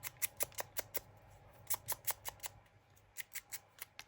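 Scissors trimming paper for a card craft, a quick series of crisp close snips in two short runs separated by a brief pause, fairly quiet with no talking.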